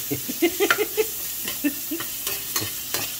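Ginger, onion and garlic sauté in a hot pan, with a soft sizzle under repeated close scraping stirs from a utensil, a few quick strokes at a time.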